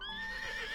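A horse in the video game Love & Deepspace lets out a short, tonal, quavering whinny, close and clear, with faint hoof-like thumps beneath and no talk.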